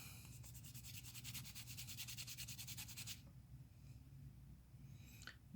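Wet sanding of a vulcanite tobacco pipe stem with abrasive paper, a close, steady rhythmic rubbing and scratching that runs for about three seconds, then softer, sparser strokes with faint handling noises.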